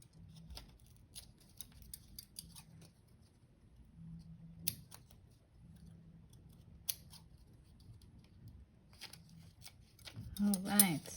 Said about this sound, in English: So I'm just cutting like cut, cut, cut, cut. So it's a zigzag.